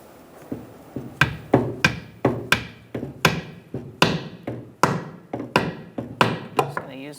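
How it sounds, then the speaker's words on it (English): A sledgehammer taps a rear brake line clip into place on a 2012-2017 Hyundai Accent, about a dozen sharp metallic knocks in a fairly even rhythm, close and loud. "Use my sledgehammer to push that down and straighten it out a little bit."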